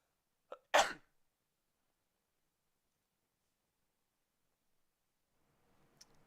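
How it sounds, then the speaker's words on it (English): One person sneezes a single sharp, close sneeze after a quick intake of breath, followed by long silence and faint rustling at the end. "I have a sneeze building up."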